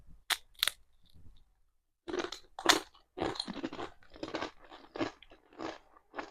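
Honey butter flavored potato chips being bitten and chewed close to the microphone, a series of sharp crisp crunches in irregular bursts with brief pauses between bites, no talking.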